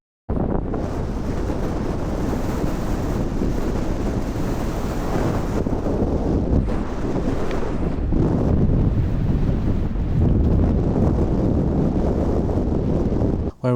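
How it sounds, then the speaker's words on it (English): Strong coastal wind at Dunkirk in northern France buffets the microphone in a constant, loud roar of rumbling gusts, with a faint wash of surf underneath and no talking. "Where we had lots of wind."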